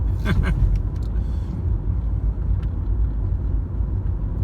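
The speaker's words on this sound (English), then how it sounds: "Just driving aimlessly, paying no attention to where the hell I am." A car driving late at night along East Van Buren, a city street, a steady low engine and road rumble close inside the cabin, with a brief tick or rattle early on and no talk.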